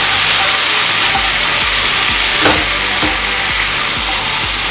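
Cashews, tomatoes and spices cook in a pan on the stove, giving a loud, steady frying hiss with faint crackles and no voices.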